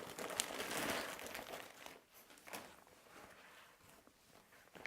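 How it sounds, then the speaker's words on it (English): A plastic bag holding a pair of leather gloves is crinkled and opened close by, with soft, irregular rustling and crackling bursts at low volume. "we've got a plastic bag here with a pair of leather gloves inside."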